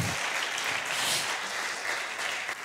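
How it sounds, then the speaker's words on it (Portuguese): A church congregation claps steadily throughout, a dense and even wash of many hands that holds at one level for the whole stretch. "Você pode aplaudir a Jesus por isso hoje"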